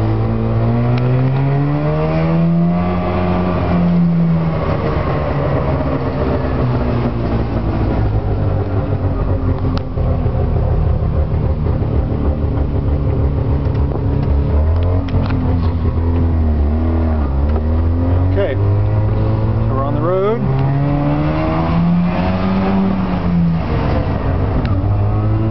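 A 1969-70 Subaru 360 truck with an air-cooled two-stroke two-cylinder engine and rear-wheel drive, driving with a loud buzzy engine note close by, its pitch climbing and dropping through gear changes over the whole stretch, with no talk.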